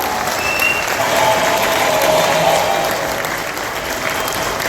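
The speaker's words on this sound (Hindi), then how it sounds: "जोरदार तालियां सभी के लिए।" An audience at an event function in Thailand applauds, a loud, sustained wash of clapping that holds steady throughout with faint crowd murmur underneath.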